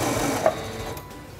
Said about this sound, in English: Release the reverse button and sew to the end.